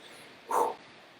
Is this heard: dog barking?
yes